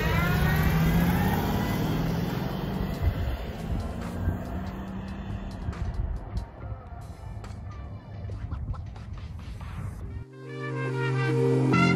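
A Chevrolet Impala with a freshly rolled fender drives along, its engine humming and revving steadily up close under broad road and wind noise, before the cabin sound drops and shifts near the end.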